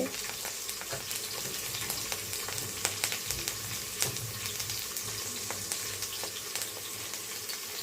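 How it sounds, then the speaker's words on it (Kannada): Whole cardamom, cinnamon and cloves sizzle and crackle in hot oil for a soybean biryani, a steady close frying hiss with scattered sharp pops and occasional stirring clinks throughout. "ಲವಂಗ ಇದು ಸ್ವಲ್ಪ ಫ್ರೈ ಆಗಲಿ"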